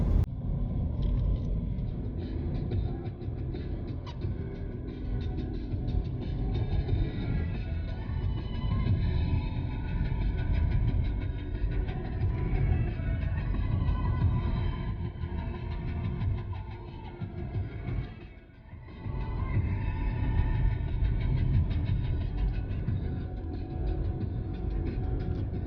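Steady road rumble and engine drone from a car driving along Gilmour Drive off Molynes Road in Kingston, Jamaica, continuous and close, with a brief dip midway and no talk.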